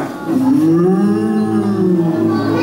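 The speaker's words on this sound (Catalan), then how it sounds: "Un bou." An ox gives a single long, loud, sustained moo that swells and holds steadily before fading, close by and with no talk over it.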